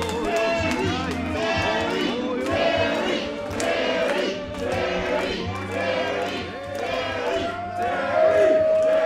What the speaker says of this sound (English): The Wrestle Turkey's cheering for the veteran.